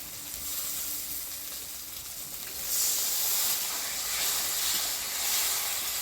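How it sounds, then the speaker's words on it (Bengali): Ground spice paste of coriander, cumin, chili and turmeric fries in oil until the oil separates, a continuous close hissing sizzle that swells slightly partway through, with no voices. "মশলা থেকে তেল ছেড়ে দিচ্ছে মশলাটা আমি ভালোভাবে কষা নিলাম"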